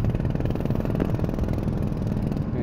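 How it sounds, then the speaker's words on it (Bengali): Engines of wooden fishing sampan boats on the beach at Inani, Cox's Bazar, chugging steadily and fairly loud close by, a continuous rough mechanical drone with no talking. "এই যে এখন চালু করতেছে সেই নৌকাগুলো"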